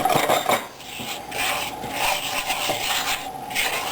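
Melting sugar for caramel is stirred in a pan, a close, continuous rhythmic scraping and rubbing of the utensil against the pan that repeats in steady strokes.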